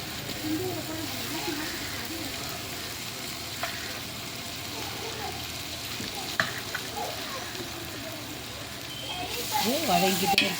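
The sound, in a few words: sautéing ingredients in a pan for chicken biryani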